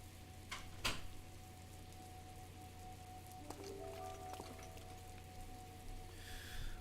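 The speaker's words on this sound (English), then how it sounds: "It is raining" Rain in the video game Breath of the Wild makes a faint, steady patter under a low hum, with a few soft ticks and clinks scattered through it and no talk.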